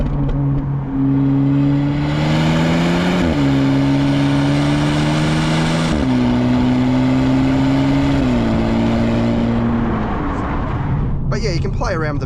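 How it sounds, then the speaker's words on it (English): A Hyundai i30 Sedan N Line engine revs hard through the gears, its loud droning note climbing and dropping at each upshift with sharp exhaust pops, close and continuous. "You've got a pretty gnarly sort of pop from the exhaust during upshifts as well"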